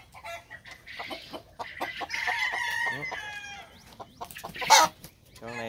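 White American Kelso chicken crowing and clucking close by, a run of harmonic calls and short clucks with a loud peak near the end, with faint background noise.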